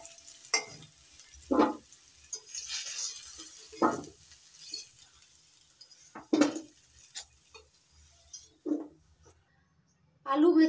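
Potatoes frying in oil in a pan with turmeric, heard as a steady soft sizzle broken by repeated scrapes and clinks of a spatula stirring against the metal pan, close and fairly loud.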